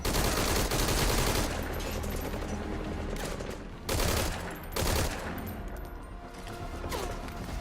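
Rifle fire in Metal Gear Solid V: Ground Zeroes rings out loud and nearly unbroken, with sustained rapid bursts and heavier volleys layered throughout. No voices are heard.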